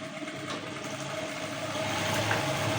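A sewing machine runs steadily, stitching African print fabric for a lined, zippered tote bag. The even mechanical whir holds for the whole stretch at moderate volume, with no talking.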